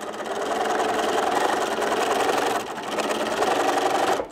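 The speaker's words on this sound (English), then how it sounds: "I'm going to move my needle over closer to the edge." A sewing machine runs steadily and close by, its even mechanical whir holding through a short dip before it carries on, while stitching runs near the edge of fabric for a small dog poop bag holder.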